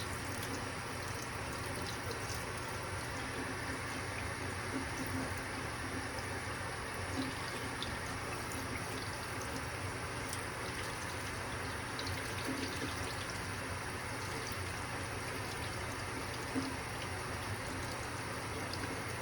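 Tap water runs steadily into a sink as hands are rinsed during handwashing in a sterile products lab, a constant close hiss with faint splashing and no talking.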